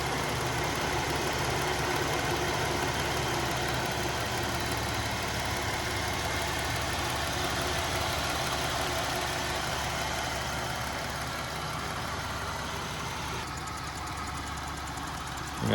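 Jeep Grand Cherokee WL 2021 with its Pentastar 3.6 liter V6 idles under the open hood, a steady low rumble that holds evenly throughout, heard up close with no talking.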